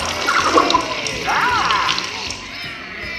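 Water spray effect bursting over the audience during the Muppet Vision 3D show, a broad hissing wash that swells near the start and again midway, with character dialogue and crowd noise underneath.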